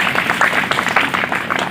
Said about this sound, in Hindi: एक बार मुझे ताली बजा के आदेशित कर दीजिए